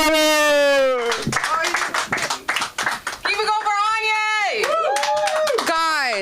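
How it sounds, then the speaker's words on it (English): An audience at a comedy show claps in a fast patter of many hands under a loud host voice calling out over the crowd, close and energetic. "Clap for Sam. Keep it going for Anya!"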